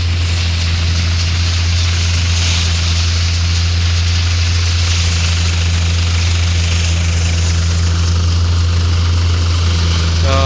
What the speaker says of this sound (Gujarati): તો આ રીતના કંઈક હાલે છે આપણે શ્રી બાલાજી ઠેસર વટાણામાં